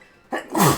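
A single short sneeze bursts out in a quiet moment, close and fairly loud, with nobody talking over it.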